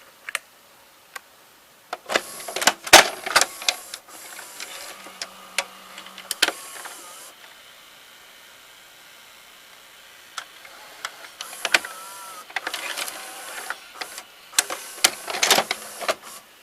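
Cassette carriage mechanism inside a Toshiba M659C VCR running, with clicking and ticking bursts, a short whirring motor stretch and more mechanical clatter, close and fairly loud.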